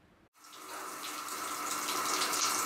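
Water running from a hotel bathroom shower, starting abruptly after a brief pause and then flowing in a steady hiss that grows slightly fuller, close by and fairly soft.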